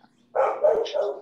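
A house dog lets out a short, close bark that runs into a quick yippy follow-up, loud and alone against a quiet indoor background.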